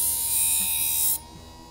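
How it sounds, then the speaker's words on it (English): Small electric grinder for sharpening knives whirs with a high, steady buzz for about a second, then cuts off abruptly, leaving a faint hum. "So this is a small grinder for knives and such."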